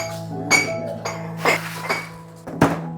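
New cooking pots, vessels and bottles for a kitchen clink and clatter together in a handful of separate bright knocks, close and fairly loud with short pauses between them.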